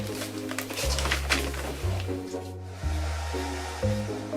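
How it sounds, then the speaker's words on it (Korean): A hair dryer runs steadily at home in a morning rush, a constant airy whir with low pulses that shift every second or so as it is moved or switched. "드라이기까지 대령합니다."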